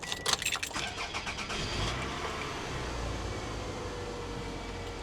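A Toyota car's 2.4-litre gasoline engine cranks briefly and catches, then settles into a steady, close idle that holds to the end.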